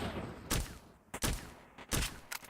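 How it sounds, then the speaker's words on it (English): Gunshots fire in a Binding of Isaac–style roguelike video game, several sharp bursts spaced unevenly, some doubled, over a faint background bed. "after I fire 6 bullets"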